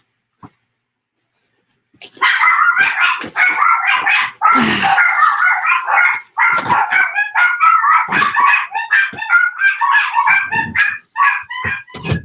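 Several puppies yapping and barking in rapid, overlapping high-pitched bursts that carry on almost without pause after a short silence, close and loud, with no talking.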